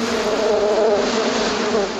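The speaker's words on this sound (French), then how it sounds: "Les abeilles n'aiment pas l'eau!" Steady, close buzzing of bees in a cartoon, a dense continuous drone with no pauses and no voices.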